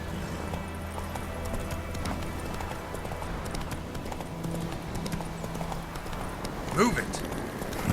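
Horse galloping in The Witcher III video game, a steady, continuous run of hoofbeats under game music and ambient noise, with a brief louder sound near the end.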